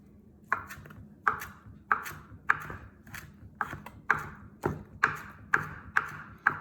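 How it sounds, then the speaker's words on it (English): A knife chops parsley on a cutting board, about a dozen sharp, evenly spaced thuds ringing out close and clear with no talk over them. "we're gonna chop the parsley"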